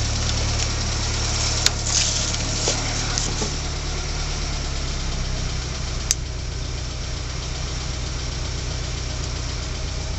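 A 1980 Mini 1000 Auto engine runs on choke on a warm day with a steady, close idle hum and a couple of sharp clicks.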